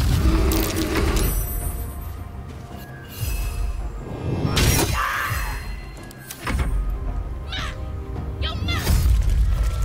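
A cat meows in the Baldur's Gate 3 video game, a few drawn-out mewing calls mixed with mechanical clicking and ratcheting game sounds, while a voice talks at times.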